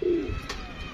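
A single soft, low coo from a pigeon on a rooftop in Gujranwala, close and brief, with faint background hum.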